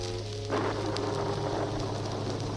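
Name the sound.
rain sound effect on a storytelling record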